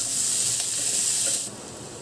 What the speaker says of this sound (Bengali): এই পেঁয়াজ আর রসুন একসাথে ভালো করে ভেজে নেব একটু